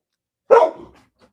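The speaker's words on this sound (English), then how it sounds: "One barks and then the other one barks." A single dog bark sounds at a front door, short and moderately close, followed by a faint trailing yip and then silence.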